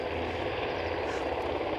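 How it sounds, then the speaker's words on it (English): Helicopter flying near Aberdeen airport, a steady broadband rotor and engine roar held at an even level, moderately distant, with no talk over it. "that's the only chopper you can hear"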